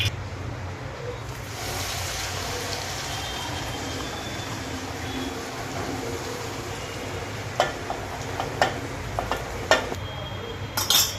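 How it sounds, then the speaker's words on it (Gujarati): Mustard seeds and sesame tempering in hot oil in a pan for dudhi-cabbage muthiya, a steady sizzle with occasional pops and clinks of a spoon stirring against the pan. "તો સરસ રીતે તેનો વઘાર કરી લઈએ। તલ પણ ઉમેરી દઈએ"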